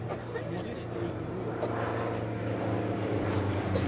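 A small red 1940s racing propeller plane passes overhead at the La Ferté-Alais air show, giving a steady droning engine hum at moderate distance with no speech.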